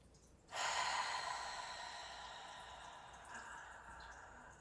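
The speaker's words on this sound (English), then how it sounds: "So let's take an even bigger breath." A single long, deep breath drawn in and let out during a guided meditation, starting suddenly as a close, airy rush and slowly easing off over several seconds, with a slight swell near the end and no talking.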